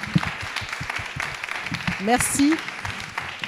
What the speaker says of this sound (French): En tout cas, on peut vous applaudir tous les deux.